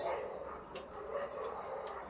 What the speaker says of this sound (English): There's dogs going out outside.